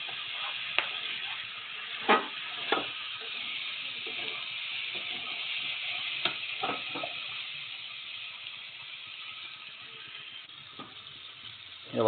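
Cauliflower stir-fried (kosha) in a pan without onion or garlic: a soft, low sizzle runs steadily throughout, broken by a few sharp clinks and scrapes of a spatula against the pan.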